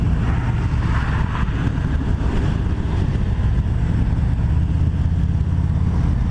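A 2020 Harley-Davidson Fat Boy 114 rides along with its engine rumble largely buried under a constant, heavy rush of wind noise.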